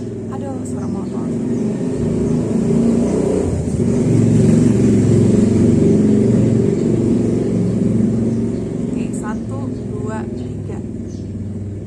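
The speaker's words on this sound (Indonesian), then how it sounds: "Aduh, suara motor." A motorcycle engine drones nearby, swelling louder in the middle as it passes, then fading slightly, with faint chirps in the background.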